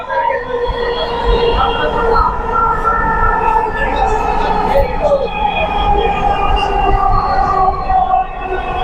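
Loud, continuous rumble and whine of a Dhaka Metro Rail MRT Line-6 train in motion, with rising and falling tonal hums from the cars.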